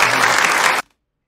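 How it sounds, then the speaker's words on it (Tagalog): Loud, dense audience applause at a rap battle fills the clip, a steady roar of clapping that cuts off abruptly after under a second. "Palakpak naman dyan po,"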